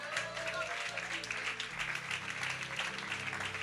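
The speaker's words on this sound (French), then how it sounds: "Acclamez pour le frère." A church congregation applauds for a brother during a French-language sermon, a steady wash of clapping from many hands, fairly close, with voices mixed in throughout.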